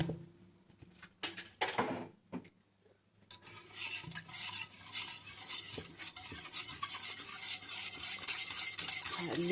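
A spoon stirs milk in a pot for homemade yogurt: a few soft clinks, a pause, then continuous brisk scraping and tinkling of metal against the pot that keeps going to the end.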